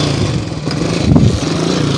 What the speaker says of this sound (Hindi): ये देखे जी दोस्तों ये बाइक हमारा चल रहा है